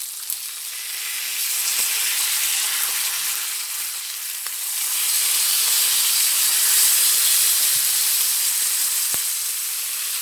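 Bacon sizzles steadily in a pan on the stove, a dense, continuous frying hiss with a few faint clicks and no voices, swelling slightly louder partway through.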